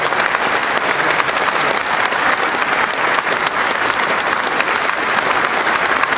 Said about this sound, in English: And Her Majesty acknowledging the applause